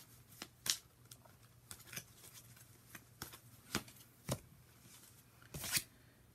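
Tarot cards being shuffled by hand: a quiet series of crisp riffles and snaps at irregular intervals over a faint steady hum, with a louder flurry near the end.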